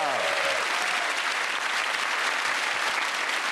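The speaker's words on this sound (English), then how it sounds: "Give that round of applause to Milton, Hugh and Angela." Studio audience on a comedy panel show breaks into loud, dense applause that holds steady and fills the room from start to finish.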